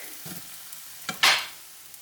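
A vegan egg-free pancake cooks in a pan after flipping, giving a brief soft scrape followed by a short burst of sizzling that quickly fades to a low hiss.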